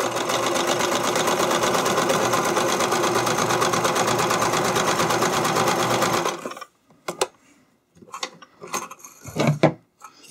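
A sewing machine stitches stretched spandex in a fast, loud, steady whirring run that stops abruptly after about six seconds, followed by a few scattered handling clicks and bumps.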